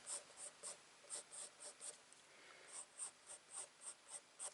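A pencil sketches fir tree branches on paper in quick, soft, rhythmic scratching strokes, close by and quiet, each short swipe repeating at a steady pace.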